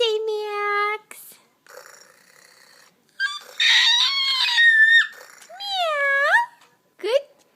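A young child imitates a cat's meow, giving a few drawn-out, rising and falling meows close up. An adult talks between them, and a real cat's cry may also be present.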